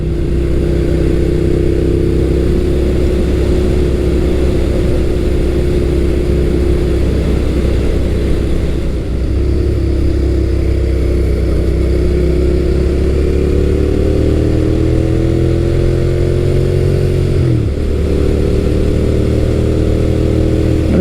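Second-generation 2003-2008 Suzuki SV650 middleweight naked motorcycle engine heard while riding: a loud, steady, close drone whose pitch dips and climbs as the throttle changes, with wind noise and no talking.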